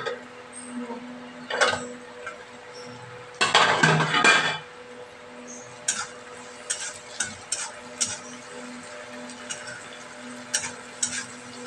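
Onion fries in a pan with a low sizzle under repeated clinks and scrapes of a utensil against the pan, including one longer burst of vigorous stirring.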